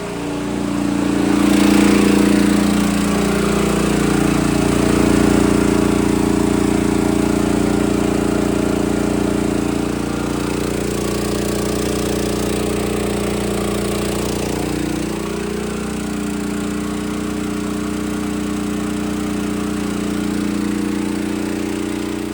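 A Champion 8750 W generator runs on natural gas under roughly 6,000 watts of load, a steady loud engine drone with low harmonic hum that holds for over twenty seconds, easing slightly partway through.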